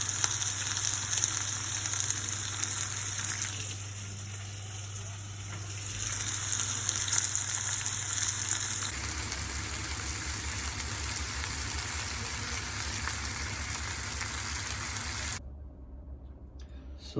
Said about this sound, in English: I'm going to sear the lamb neck, and I'm going to do it for both sides for about a couple of minutes